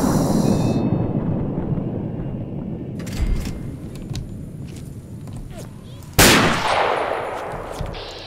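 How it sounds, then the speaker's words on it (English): Gunfire in the Fallout 3 video game during an Enclave ambush: a dense, continuous rumble of shots and impacts, with a sudden loud, sharp burst near the end followed by more sustained noise. "Oh, here come the bullets."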